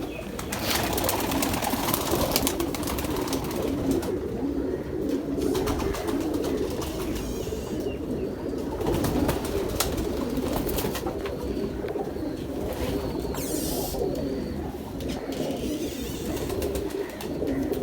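Pigeons coo softly and repeatedly close by, the low throaty calls running continuously over a faint background hum.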